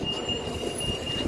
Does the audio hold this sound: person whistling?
no